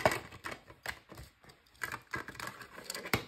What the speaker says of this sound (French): je prends maintenant mon cutter et on va découper